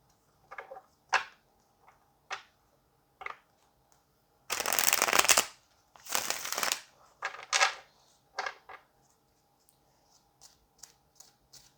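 Tarot cards are shuffled and drawn one by one, with two long riffling bursts among scattered short slaps and flicks of cards being laid down, close and quiet with no talking.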